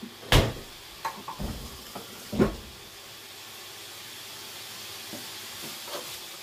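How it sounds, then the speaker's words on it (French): Water poured into a hot pan of tomato sets off a sharp burst of sizzling, followed by a few stirring scrapes and softer crackles that fade into a low, steady hiss. "Je vais mettre de l'eau."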